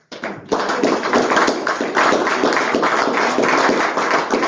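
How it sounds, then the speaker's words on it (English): A room at a MSD of Wabash County school board meeting breaks into a loud, close round of applause that starts abruptly and holds as dense, steady clapping throughout. "let's give her a round of applause"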